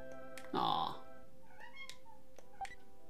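A cat meows in the Earthbound video game: one loud, drawn-out meow near the start, followed by fainter short game chirps and blips.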